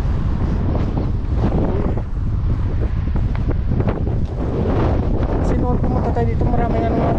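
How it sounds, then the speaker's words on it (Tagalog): Strong wind buffets the microphone in a constant loud rumble, with someone talking underneath the gusts. "Medyo mahangin lang po."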